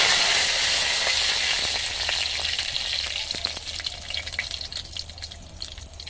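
Bay leaves and dried red chilies sizzle in hot mustard oil in a kadai, a loud, dense frying hiss that eases slightly into crackling pops, heard close with no talk.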